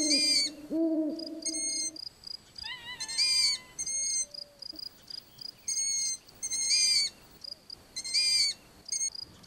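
A young owl's high, wavering calls repeat in clusters over steady insect chirping, with a low hoot near the start and quiet night ambience between.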